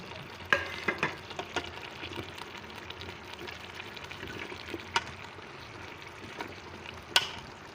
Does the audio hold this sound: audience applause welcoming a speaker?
no